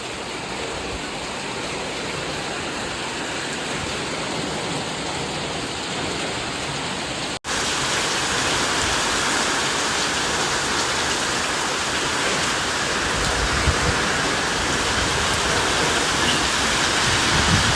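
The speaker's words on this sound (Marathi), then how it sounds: "लय पाणी वारा" Heavy rain and strong wind pour down in a steady, dense roar that briefly cuts out partway through, then returns as loud as before.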